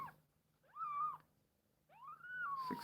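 A week-old kitten meows while being weighed: two drawn-out, rising-and-falling cries close up, with a short pause between them and no talking.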